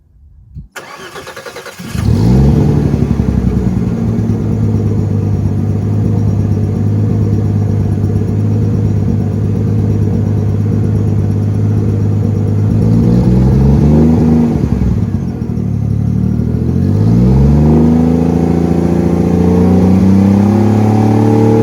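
A turbocharged Mercedes M104 engine cranks and catches after a brief silence, then settles into a loud, steady, close-up idle with a couple of small blips in the rumble.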